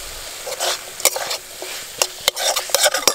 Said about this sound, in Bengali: পেঁয়াজের সঙ্গে মাংস একটু ভাজা ভাজা করে নিয়েছি। এবার দেব লঙ্কা গুঁড়ো।